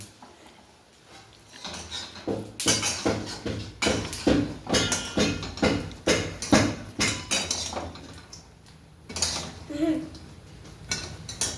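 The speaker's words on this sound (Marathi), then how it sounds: "आपले शेंगदाणे छानसे भाजत आहेत आणि असं चांगल्या पद्धतीने हलवत राहायचं" Peanuts roasting in a pan and being stirred continuously, producing rapid rattling and scraping clatter in rhythmic bursts of metal on metal, loud and close, with faint voices appearing briefly near the end.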